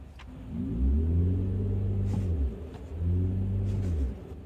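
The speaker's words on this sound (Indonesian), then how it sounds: "ada silver wave yang kalau kita gas suara kayak begini" Mercedes EQS electric car playing its Silver Wave synthetic acceleration sound, a smooth low hum that swells twice as the throttle is pressed, each rise lasting about a second and a half, clear and close with no talk.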